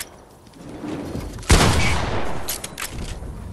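Gunfire in Fortnite, a sudden loud shot that stands out sharply from quieter background game sounds, followed by a few fainter pops and clicks.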